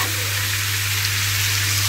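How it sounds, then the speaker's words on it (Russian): Pork cracklings fry in a pan in a garage with a steady, dense sizzle and crackle, close and constant, over a low electrical hum. "Вот как жарятся шкварочки."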